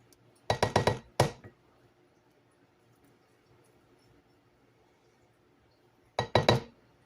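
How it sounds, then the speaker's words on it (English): An 8x8 baking dish set down, giving a quick cluster of sharp glassy clinks and knocks, then quiet, then another short pair of clinks near the end, close and clear in a quiet kitchen. "8x8 baking dish"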